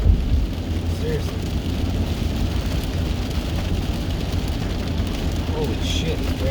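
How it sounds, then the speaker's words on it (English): Heavy rain pounds a moving 1998 Honda Accord 2.3 with F23A1 engine and 5-speed, a dense steady roar of water on the body mixed with road and engine rumble from inside the cabin. "it's raining pretty good."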